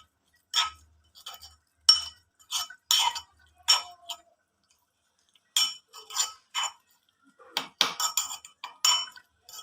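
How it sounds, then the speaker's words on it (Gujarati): A spoon mixing garlic chutney with ginger, coriander and peanuts in a bowl, giving clear repeated clinks and scrapes in irregular bursts, close and alone. "હવે આ રીતે બધું મિક્સ કરી લઈશું"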